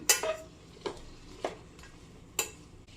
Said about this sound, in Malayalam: ഇനി നല്ലതുപോലെ ഒന്ന് ഇളക്കി കൊടുക്കാം